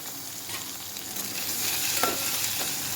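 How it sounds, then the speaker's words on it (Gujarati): Chopped onions and tomatoes fry in a pan with a steady, close sizzle that swells slightly in the second half. Faint stirring scrapes sit under the hiss, and no one speaks. "ટામેટાને પણ થોડીક વાર ફ્રાય થવા દેવાના છે."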